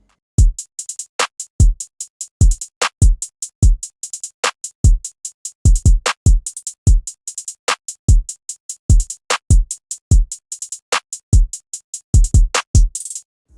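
Crisp programmed hi-hats tick in a bouncing two-step pattern for a type beat, with occasional fast rolls and short clusters over a low kick-like thump, dry and isolated.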